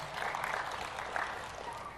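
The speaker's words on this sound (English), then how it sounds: "Tiny, tiny applause." A small audience gives a brief, light round of applause, a soft, steady patter of clapping that stays fairly faint and even for a couple of seconds with no talking over it.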